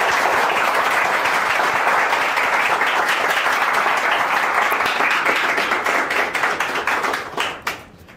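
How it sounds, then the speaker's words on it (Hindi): Enthusiastic audience applause welcoming a guest teacher at a Teacher's Day event, a thick, continuous wash of clapping that gradually thins into scattered claps near the end. "जोरदार तालियों से उनका स्वागत कीजिए।"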